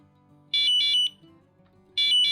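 A Delphin Shocker electronic bite alarm for catfish fishing beeps in short, shrill bursts: a quick triple beep, a pause with faint low hum, then another quick pair of beeps.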